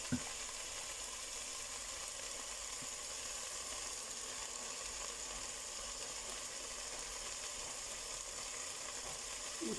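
Spice paste for beef biryani sizzles and fries in a pan, a steady, even hiss that is fairly close and continuous, with no talk over it.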